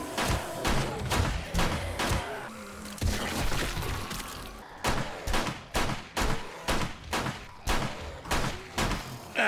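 Blasts and bangs tear through a zombie cop in 7 Days to Die, a dense burst of loud impacts and crashing debris in the first seconds, then a steady run of sharp, evenly spaced explosive hits and thuds.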